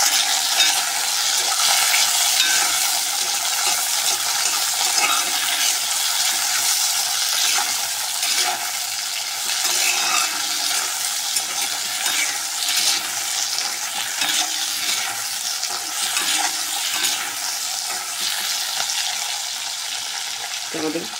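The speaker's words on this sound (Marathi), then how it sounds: "त्यामध्ये लसूण, शेंगदाणे, हे सर्व साहित्य आपण छान असं भाजून घेणार आहोत।" Garlic and peanuts dry roasting in a pan for a raw tomato chutney, a steady bright crackle with scraping stir strokes running throughout at close range, with no talk over it.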